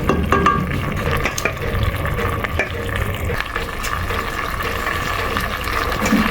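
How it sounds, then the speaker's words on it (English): Chicken pieces are dropped one by one into boiling barbecue sauce, which bubbles and sizzles steadily while soft plops and splashes land on top. "So we're just adding in our chicken one by one."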